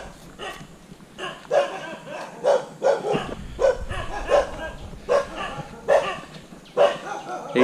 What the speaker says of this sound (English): You got to get used to temple dogs in Thailand